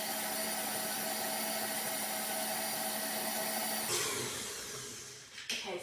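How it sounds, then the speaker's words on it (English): An electric mixer whirs steadily as it creams soft butter for cupcakes, a constant close hum that cuts off near the end, followed by a few faint clatters. "So we're going to switch on the mixer."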